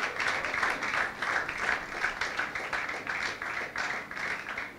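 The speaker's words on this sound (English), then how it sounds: "Can we give them a big God bless you and a hand clap?" Church congregation clapping at an evening revival service, dense, steady hand claps carrying evenly throughout at moderate loudness, with no talk over them.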